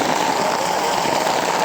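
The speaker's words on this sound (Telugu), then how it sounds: "ఇలా వర్షం పడుతుంది." Steady rain falls in Bali, a dense, continuous hiss of drops on surfaces, close and fairly loud throughout the short stretch.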